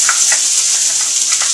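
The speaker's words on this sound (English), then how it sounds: "That means we're working when you hear the sizzle." Onion sizzling in extra virgin olive oil in a hot pan, a loud, close, steady hiss of frying with soft stirring scrapes underneath.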